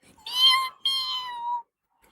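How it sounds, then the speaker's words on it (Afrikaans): A cartoon cat gives two clear, drawn-out meows in quick succession, close and fairly loud, with no other sound around them. "en dis my kat Matthewes"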